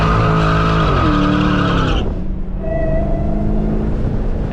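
A Dodge SRT Demon 170 spins its tires without traction, a loud continuous engine roar blended with squealing rubber that shifts pitch midway as revs change.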